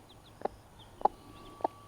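Mother hen with newly hatched chicks pecking around: three soft, evenly spaced clucks about half a second apart over a quiet background, with faint high peeps in between.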